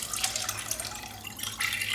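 Water poured into a pot of leek and potato soup, a continuous splashing pour with bright trickling and a fuller gush toward the end, close up and without speech.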